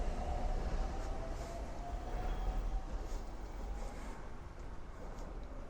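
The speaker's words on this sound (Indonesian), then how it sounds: "akhirnya kita sampai di stasiun Naka Okazaki." A train pulls in at Naka Okazaki station in Japan, with a steady low rumble of wheels and cars that holds even and loud through the whole stretch, and no voices are heard over it.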